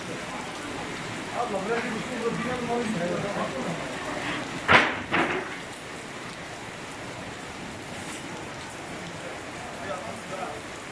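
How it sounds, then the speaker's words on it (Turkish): Steady rain patters and hisses on a hard surface in a covered arcade, with a sharp clatter partway through and people talking under the noise. "Bak yağmur yağıyor kapalı mekana."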